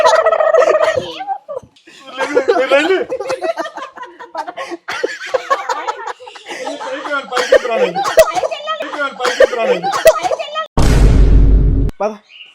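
Turkeys gobble and cluck repeatedly, close by and loud, in a noisy outdoor spot with people talking over them, ending in a burst of loud rumbling noise.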